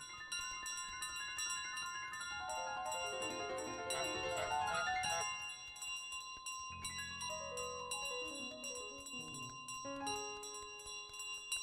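In Untitled Goose Game, a village bell rings out in a long cascade of bright, overlapping tones that descend and linger, followed by a second, sparser run of chimes, fairly loud and close.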